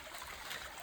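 Small waterfalls on a hiking trail trickle and splash in a soft, steady stream of water sound, faint and brief with no one talking.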